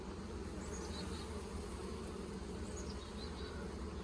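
Honeybees inside a healthy, honey-bound hive produce a soft, continuous buzzing hum that stays even and faint throughout, with no voices.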